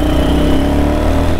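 A 2022 Royal Enfield Hunter 350 motorcycle engine revs hard and close, a loud, steady, throaty single-cylinder roar held at high throttle throughout.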